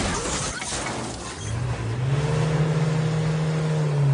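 A car engine revs up, its pitch climbing and then holding at a loud steady drone close by.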